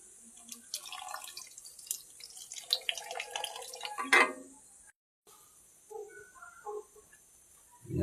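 Vinegar poured for a bangus (milkfish) steak marinade, a close, quiet trickle and patter of liquid that runs for several seconds, breaks off briefly, then resumes in short splashy dribbles.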